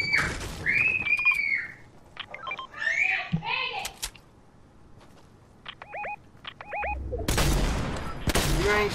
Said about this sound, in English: You ain't shooting that far, you Riri.